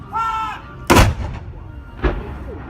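Replica cannon firing a daily gun signal in Valletta, Malta: two loud, booming shots about a second apart, the first heavier, each with a short rumbling tail, heard outdoors after a brief whine at the start.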